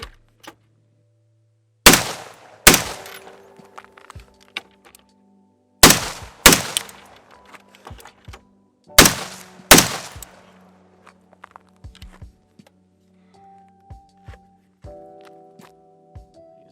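A BCM 14.5 rifle fired at 25 yards from a barricade: three pairs of sharp, loud gunshots with ringing echoes, separated by quiet pauses and some faint handling sounds.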